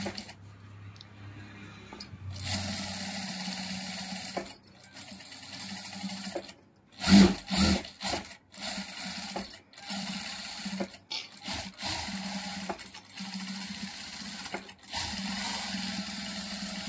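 Sewing machine stitching double stitches runs in steady bursts, a close mechanical whir with rhythmic ticking, stopping and restarting several times with short pauses.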